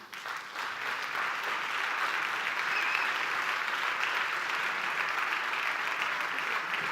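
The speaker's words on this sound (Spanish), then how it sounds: "Recibimos con un fuerte aplauso a Ramón Cid" An audience at a festival colloquium applauds to welcome Ramón Cid, a long, even burst of clapping that holds steady and loud from start to finish with no talk over it.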